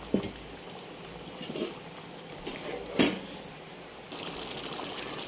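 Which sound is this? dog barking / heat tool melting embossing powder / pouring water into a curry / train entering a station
pouring water into a curry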